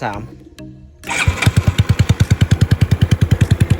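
A 2021 Honda Wave 110 motorcycle with a 53 mm bore kit starts up and settles into a fast, lumpy idle with a loud aftermarket exhaust, firing pulses rapid and close.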